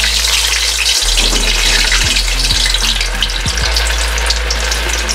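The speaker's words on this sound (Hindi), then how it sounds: "अब इसे साथ ही फ्राई कर लेते हैं।" Motu paitu snack fries in hot oil in a kadhai over a medium-low flame, producing a loud, dense sizzle that runs the whole time, with a few low knocks and no speech.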